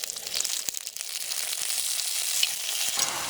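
Tomato with chili, onion and garlic frying in a pan for Sankara fish curry, a steady broadband sizzle with a few soft stirring clicks, close and continuous with no voices.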